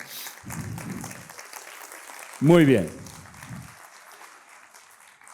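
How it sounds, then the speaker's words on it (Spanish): Steady applause from a conference audience runs throughout, with someone speaking briefly over it. "Pueden aplaudir, no pasa nada"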